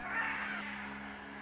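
A scarlet macaw in Costa Rican rainforest gives one harsh, raspy squawk that fades into a steady hum of insects and background noise.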